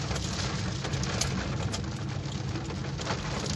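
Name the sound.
heavy rain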